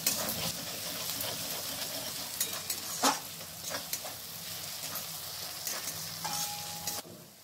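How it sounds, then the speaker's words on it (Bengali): Ginger and garlic sizzle in hot oil over medium heat in a pan, with steady frying crackle and intermittent scrapes and clinks as a utensil stirs, ending in a brief lull. "এরপর মিডিয়াম আঁচে এগুলোকে ভেজে নিতে হবে।"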